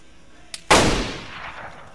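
Video game gunfire: a faint short pop, then one loud close shot that rings out and decays over about a second.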